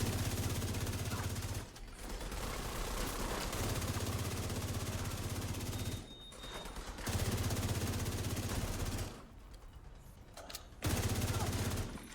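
A minigun on a mini tank fires in The Division 2, loud sustained bursts of rapid gunfire with a few short breaks.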